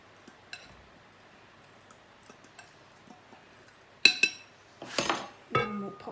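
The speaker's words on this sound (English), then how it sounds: "let's give that a little quick stir first, just to combine this together" Muffin batter gets a quick stir in a bowl, starting as faint scattered ticks and light scrapes, then a cluster of louder clinks and scraping strokes near the end.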